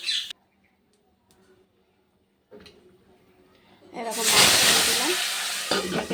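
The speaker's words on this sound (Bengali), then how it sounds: "ঢেকে ঢেকে ভাজতে হচ্ছে নাহলে মাছগুলো খুব ফুটছে" Loud crackling sizzle of fish frying in hot oil in a covered wok rises in the second half after quieter moments, a dense hiss that continues steadily to the end.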